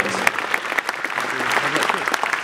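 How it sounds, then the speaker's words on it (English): An audience at a Team Lotus and Caterham motorsport announcement applauds two racing drivers, a busy patter of clapping with sharp individual claps standing out, while a voice murmurs faintly underneath. "please give a round of applause to Jana and Heikki"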